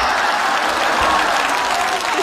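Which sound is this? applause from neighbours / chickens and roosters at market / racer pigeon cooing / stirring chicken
applause from neighbours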